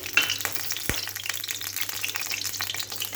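Oil heating and sizzling in a hot wok before dried fish chutney is cooked, a steady close crackling sizzle with small pops and a single sharp knock near the start.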